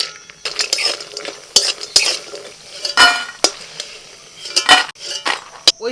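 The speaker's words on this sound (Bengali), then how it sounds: "অল্প করে একটু তেল দিয়ে দিলাম, কিছু ডালের বড়ি ভেজে নেব।" Lentil dumplings (bori) frying in a little oil in a pan, with repeated sharp scraping and clinking of a spatula against the metal, loud and close, with a low sizzle between the strokes.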